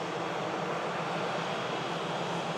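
A Vueling airliner near Manchester Airport gives off a steady, faint, broad jet rumble from a distance, unbroken and even throughout.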